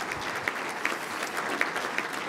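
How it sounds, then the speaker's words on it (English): Audience applause at the 14th annual Blarney Breakfast, an Irish breakfast gathering, steady clapping throughout with a few sharper claps standing out, moderately close and with no talking. "I think he deserved a really big round of applause for all of his efforts."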